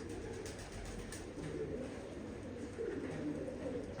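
Pigeons coo softly in low, rolling calls over a quiet, steady background noise.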